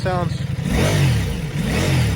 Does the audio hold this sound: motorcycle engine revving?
yes